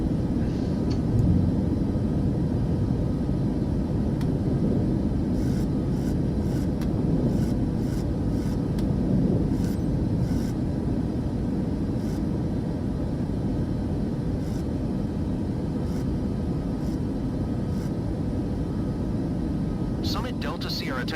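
Airliner taking off in Microsoft Flight Simulator 2024, a steady loud low engine roar and runway rumble sustained throughout, with faint clicks near the end and speech over it.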